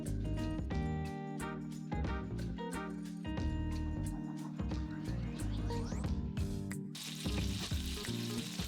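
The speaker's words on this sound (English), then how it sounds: "Into a hot pan I'm going to add the olive oil and then the meatballs" Meatballs frying in olive oil in a hot pan, a steady close sizzle with light scraping and clinks, the hiss swelling louder toward the end.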